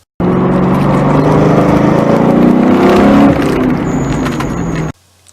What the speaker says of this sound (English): I'm rolling on the throttle until I'm hard on the gas through the finish